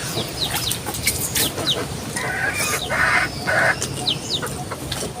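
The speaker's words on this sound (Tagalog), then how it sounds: "Dami kasi manok." Chickens cluck and squawk continuously at close range in a busy farmyard, with short repeated calls overlapping one another and a rooster-like cry rising briefly in the middle.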